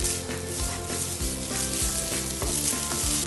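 Meat, egg and cabbage stir-fry in a preheated oiled pan, a loud continuous sizzle with the scrape and clatter of stirring in a steady rhythm, close by and without talk.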